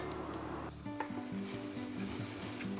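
Butter, a little oil and onion hit a hot pan already used for searing chicken, bursting into a soft, close sizzle that settles into a steady crackle with faint pan clinks.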